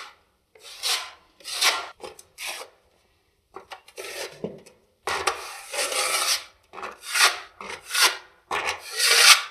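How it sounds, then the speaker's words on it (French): A smoothing blade on a pole scrapes plaster filler across a ceiling, producing repeated rasping strokes in uneven bursts with short pauses between, close and fairly loud. "je travaille là principalement à 45 degrés, c'est-à-dire qu'en fait je fais ce qu'on appelle un vrai ratissage"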